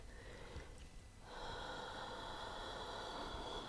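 A single slow breath during a yoga practice, a soft intake followed by a longer, airy exhale, close and quiet with no talking.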